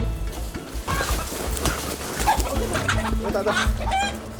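Chickens cluck and call on a Himalayan mountainside at about 3,500 metres, busy and fairly close, with other outdoor noise and movement mixed in.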